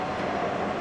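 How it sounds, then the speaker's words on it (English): A BNSF intermodal freight train hauled by GE ES44C4 locomotives gives a brief, steady low rumble and broad hiss, even in level and unbroken. "Getting back to the intermodal train, BNSF 6541 and 3725 are both GE"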